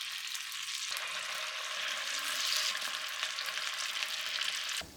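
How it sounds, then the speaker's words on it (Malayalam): Batter-coated cauliflower pieces deep frying in hot oil over a medium flame give a close, steady bubbling hiss that swells slightly and then drops away sharply near the end, with no voices. "ഓയിൽ ചൂടാക്കി ഓരോന്നായി ചൂടായി കിടക്കുന്ന ഓയിലിലേക്കിട്ട് വറുത്തു കോരണം"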